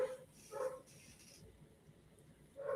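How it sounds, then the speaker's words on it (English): A deaf dog named Jax barking from somewhere else in the house, three short faint bursts spaced apart, heard from a distance in a quiet room. "Do you hear my dog barking?"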